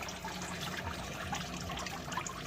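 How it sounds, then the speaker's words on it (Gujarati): Water falls and splashes in a continuous, moderately close patter with bubbling trickles throughout, heard alone without any voices. "પાણી પડે છે ગાઈસ, જુઓ"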